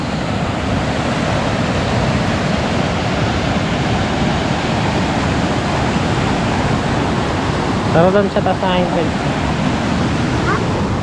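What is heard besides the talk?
strong river current rushing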